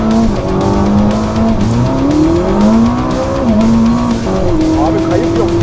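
A 1000-horsepower Ferrari SF90 Stradale hybrid accelerates hard, its engine note climbing in pitch alongside squealing tires, while people talk over the loud, close car noise.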